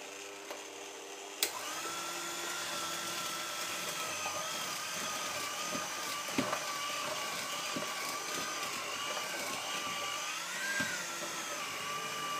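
A hand-held electric mixer runs steadily on a low setting through cake batter in a home kitchen, a continuous whirring motor hum with faint scraping knocks, close and unbroken throughout.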